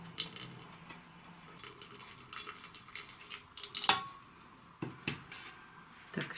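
Water poured into a container onto a sponge for an orchid cutting, soft intermittent splashing and trickling with light clinks and drips, faint and close.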